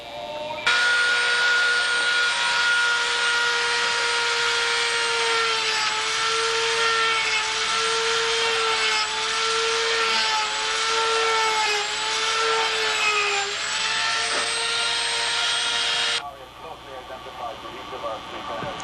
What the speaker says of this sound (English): I'll just burn these out with the Dremel tool